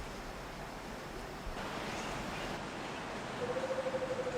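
Fiercely flowing brown river water in Samburu, Kenya rushes as a steady broadband roar throughout, with a faint tonal call entering near the end.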